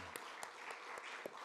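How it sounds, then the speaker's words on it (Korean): Church congregation clapping to welcome the children during a Sunday sermon: a faint, thin round of applause with a few distinct louder claps, heard at a distance with no voices over it. "다음 세대 자녀들 박수로 한번 환영했으면 좋겠습니다."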